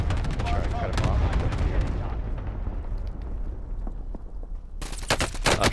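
Rapid bursts of video game gunfire crackle loudly over a low rumbling bed, thinning out midway, then erupting again in a sharp flurry of shots near the end, with a player talking briefly.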